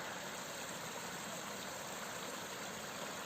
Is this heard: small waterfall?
yes